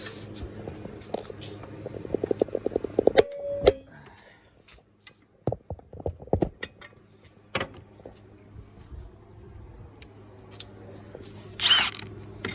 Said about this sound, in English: I'm also gonna torque it to 250. See what the difference in power levels are. So let's go ahead and torque this.